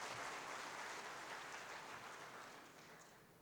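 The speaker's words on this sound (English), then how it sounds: "Can we have a round of applause for both the gentlemen for wonderful presentation?" Applause from a conference audience after a two-speaker presentation: a steady wash of many hands clapping, fairly distant and quiet, slowly fading toward the end with no talk over it.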